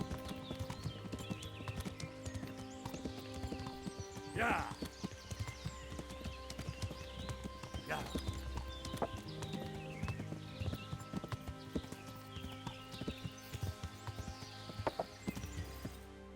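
Horse hooves in the video game Kingdom Come: Deliverance clip-clop in a steady walking rhythm, with a couple of short whinnies over a constant background hum.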